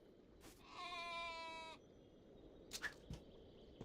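A Yale creature from the RLCraft video game gives a single sheep-like bleat, a drawn-out wavering call of about a second, followed by a few short soft clicks and thuds.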